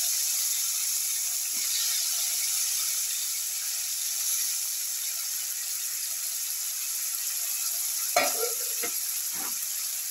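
Cauliflower frying in a pan for a garlic cauliflower casserole, a steady bright sizzle throughout, with a few soft clinks and scrapes of a utensil near the end and no talking.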